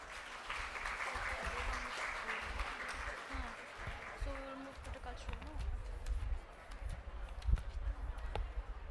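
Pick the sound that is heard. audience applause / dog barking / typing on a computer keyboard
audience applause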